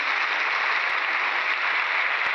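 Steady wash of studio audience applause on an old radio broadcast, dense and even throughout with no voices over it.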